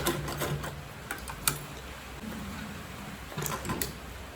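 A sewing machine stitches a make-up bag edge with short, faint mechanical bursts and a brief back stitch, separated by quiet pauses and light clicks.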